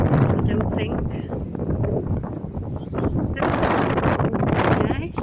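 Wind gusting across the open shore at Crosby Beach near Liverpool on a blustery morning, a steady broadband roar buffeting the microphone throughout, with a person talking beneath it.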